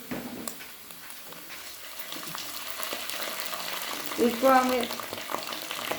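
Garlic and ginger sizzle softly in a pan on low heat after onions, a faint crackling fry with a brief scraping stir, while a voice speaks quietly over it.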